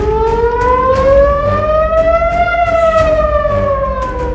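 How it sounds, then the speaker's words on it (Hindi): A civil defense war siren wails loudly and continuously, its pitch rising slowly and then falling, with strong harmonics and faint background noise and no voices. "क्या तेहरान में युद्ध का सायरन बजने वाला है?"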